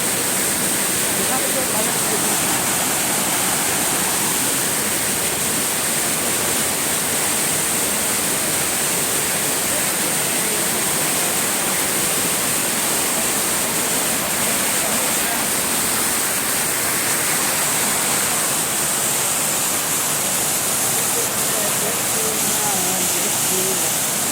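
Loud, dense rushing water roars continuously without a break, a steady broadband wash like a waterfall heard from close by, the water running high in flood at Pradhanpat falls in Deogarh, Odisha.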